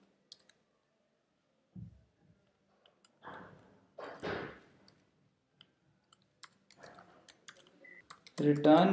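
Code typed on a computer keyboard, scattered sharp key clicks in short irregular bursts, with a voice speaking in between and a louder voice near the end.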